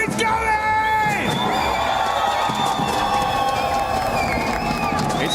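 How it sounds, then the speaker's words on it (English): A large arena crowd at the PUBG Mobile World Cup grand finals in Paris cheers, whoops and shouts continuously, loud and sustained, with an announcer's amplified voice ringing over the roar. "It's a real good crowd here we got here in Paris."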